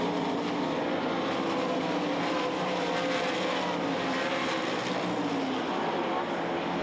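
Sprint or dirt cars roar continuously on a half-mile dirt oval during a heat race at the Knoxville Nationals, a dense, steady engine wash with the field close by and no breaks.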